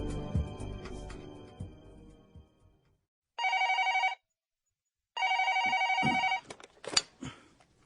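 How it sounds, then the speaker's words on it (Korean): A telephone rings in the office of South Korea's finance minister in a dramatized Korean economic documentary: two loud bursts of electronic bell ringing with a pause between, after fading background sound and before other noises. "재무부 이규성 장관의 방으로 한 통의 전화가 걸려왔다"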